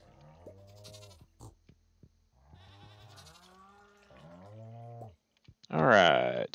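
Speech-like voicing fills most of the stretch, then a goat gives one loud, close bleat near the end, in the Stardew Valley video game.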